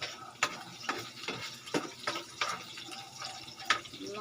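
Garlic frying in a pan while vegetables are cooked, heard as a soft sizzle broken by scattered stirring clatters and scrapes, close but fairly quiet, with no talk.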